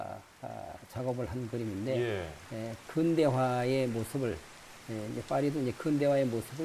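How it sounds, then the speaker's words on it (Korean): Rain falls softly and steadily on a Paris street in a moving digital media artwork built from a Gustave Caillebotte painting, a faint hiss beneath continuous close conversation. "빗소리도 들리네요. 네. 빗소리 들리시죠?"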